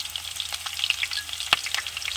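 Tempering spices crackle and sizzle in hot oil for a village-style Andhra drumstick curry, a steady close frying hiss broken by small pops and one sharp snap near the end, with no voices.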